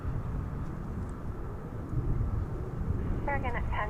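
A Qantas Boeing 787-9 Dreamliner on long-haul arrival from Melbourne touches down on a runway at DFW airport, its steady broad engine roar held throughout under a commentator's voice.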